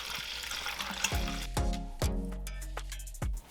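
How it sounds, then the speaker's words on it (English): Lemonade is poured in repeated splashing glugs into one compartment of a multi-section party drink dispenser, a close, quiet series of liquid bursts with short pauses between them. "I'm gonna add in lemonade"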